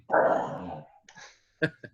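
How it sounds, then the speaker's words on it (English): Dogs fight close by: a rough, snarling growl runs for most of a second, followed by a pause, then two short, sharp barks. "Dog fights over here"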